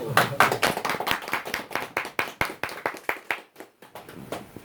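Claps ring out at a campaign office signboard-hanging ceremony in Gwangju as party members applaud their comrades, a small group of hands beating in a loose rhythm of separate, distinct strikes that thin out and fade toward the end.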